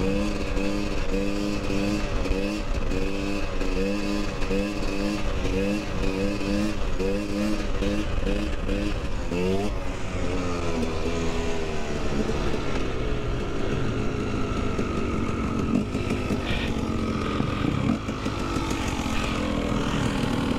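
A motorcycle engine revs hard in repeated rising and falling surges, then settles into a rougher, fluctuating drone; loud and close, with no talking.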